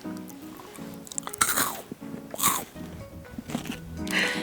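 Close, crisp crunches of someone biting and chewing a Kit Kat cookie crumble chocolate bar, several sharp bites followed by steady mastication with no talking.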